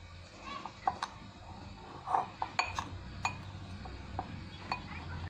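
Dry red chutney is mixed with chilli and garlic in a bowl, giving close, irregular clinks and scrapes of a spoon against the dish, fairly soft, with faint speech in the background.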